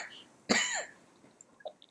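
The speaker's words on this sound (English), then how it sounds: "Sam starts to cough." A man coughs once, a sudden loud harsh burst that tails off over about half a second, followed by faint quiet breathing.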